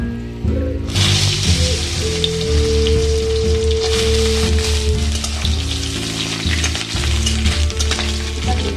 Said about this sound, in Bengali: তেলটা গরম হওয়ার পরে ডালি বড়া একদম বড়িটা ভেজে নেব